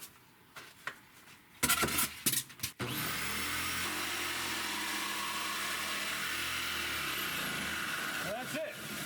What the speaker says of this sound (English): my drill's kind of loud